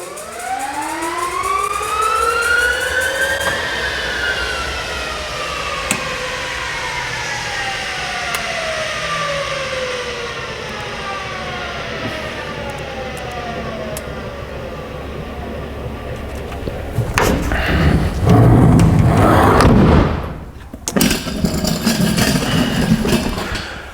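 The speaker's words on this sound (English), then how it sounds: "I'm going to give you guys a teaser of what the engine will sound like during startup." A Bat car's engine startup teaser in a garage: a rising and falling wail sweeps upward and slowly fades over many seconds, loud and alone, then gives way to a burst of harsh roaring noise near the end.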